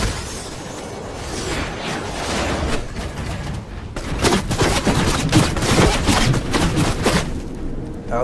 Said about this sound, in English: Attacking that player with the SMG.